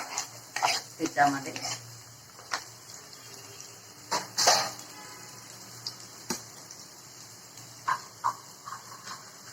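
Chopped onion hits hot oil with cumin and sizzles, with scraping and stirring clatter from a spoon against a pot; someone speaks briefly.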